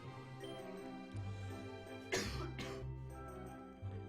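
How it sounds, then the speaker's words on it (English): A short burst of coughing and throat clearing in the middle, over a steady low background hum, fairly close and moderately loud. "I'm so sick of coughing."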